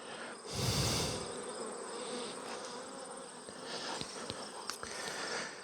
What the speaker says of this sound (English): the little bees are back in their hive